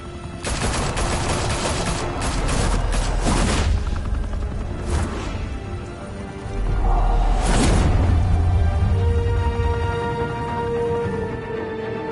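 Heavy gunfire from a shootout in Batman Telltale: sustained bursts of automatic fire and booming blasts, loud and dense, with brief lulls and whooshes between volleys.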